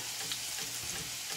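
Pot of water at a rolling boil for lentil soup beans, a dense steady bubbling hiss that stays even throughout, close and moderately loud with no talk.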